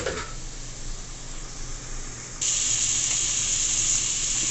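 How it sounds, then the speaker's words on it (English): Liquid thrown into a hot pot of Jamaican brown stew chicken, a steady hissing boil that jumps suddenly louder and brighter midway, close and continuous with no talk. "You see, pot is still boiling up."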